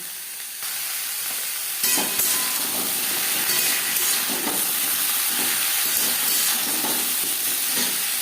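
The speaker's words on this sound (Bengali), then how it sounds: "আলু ভেজে নেওয়ার পর দিয়ে দেবো পটল" Potatoes and pointed gourd fry in a pan with a loud, continuous hissing sizzle that jumps up after a quieter start and holds steady, with faint stirring scrapes and no speech.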